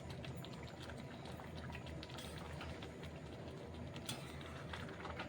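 A pan of omelette curry simmering with garam masala added, giving a constant low bubbling and crackling hiss that stays faint and steady throughout, with no voices.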